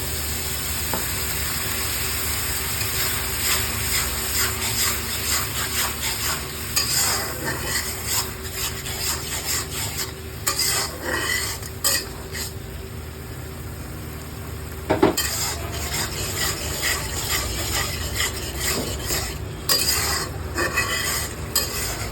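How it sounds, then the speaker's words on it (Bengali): A spice paste with salt, turmeric and a splash of water fries and is stirred in a pan for chitol fish, giving a constant close sizzle with scraping stirs and light utensil clinks. "একটু পরিমাণ মতো নুন দিয়ে দেবো, একটু হলুদ দিয়ে দিলাম, একটু জল দিয়ে দিলাম, মশলাটা কষলাম"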